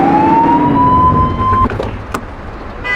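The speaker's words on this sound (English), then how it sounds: "Remember to turn your siren on." A police car siren in the video game The Precinct sounds one loud rising wail that cuts off abruptly, leaving engine and road noise.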